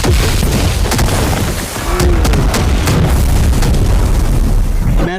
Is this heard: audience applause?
no